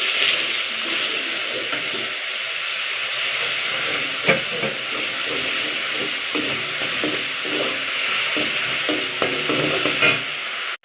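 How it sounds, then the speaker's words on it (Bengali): Onion paste fries and hisses in hot oil in a pan while it is stirred, a steady close sizzle with intermittent scraping stir strokes and no talking. "দিয়ে দেবো পেঁয়াজ বাটা,"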